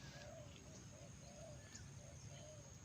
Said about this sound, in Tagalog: Huni lang ng ibon yung maririnig mo.